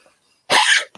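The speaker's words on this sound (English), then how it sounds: "She's going to start coughing." A woman gives one short, sharp cough close to the microphone, followed by a faint catch of breath, in an otherwise quiet room.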